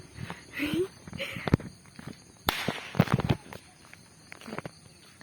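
Firecrackers set off by playing children during a morning walk, with several sharp bangs and crackles at varying distances, one loud close pop standing out, while people talk throughout.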